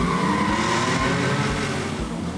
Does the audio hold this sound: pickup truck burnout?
yes